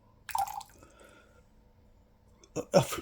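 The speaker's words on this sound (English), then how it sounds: "How did I dribble 2 grams of water?" Lukewarm tap water dribbles briefly into a sourdough starter container, a few small drips and trickles, with a voice speaking faintly nearby.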